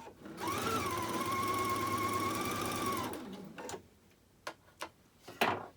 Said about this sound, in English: I get to the end, cut off my leader, and sew back onto my leader again.